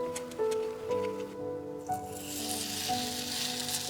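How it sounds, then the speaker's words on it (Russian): Broccoli fritter batter sizzles and crackles softly in a hot pan over low heat, a steady frying hiss with a few faint clinks of utensils near the start. "Приступаем к выпеканию брокколи оладок."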